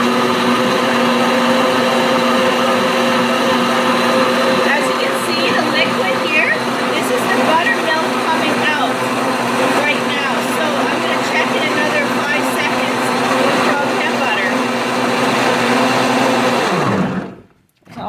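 A blender whirs steadily as cream churns into butter, a loud continuous motor drone with shifting liquid slosh that holds for about seventeen seconds before cutting off abruptly.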